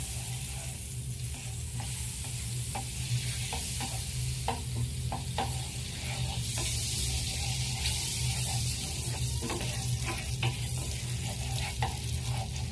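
Chicken leg pieces frying in hot oil and butter, giving a loud continuous sizzle with crackling spatters and occasional stirring clicks, close and steady with no talk.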